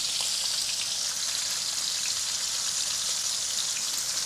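Bacon strips fry in a pan with a steady, dense crackling sizzle that stays even and close throughout.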